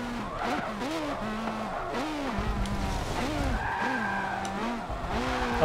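Hypercars race through sharp turns in Forza Motorsport 7, engines rising and dropping in repeated revving sweeps with tire squeal between shifts, loud and close, with talk layered over them.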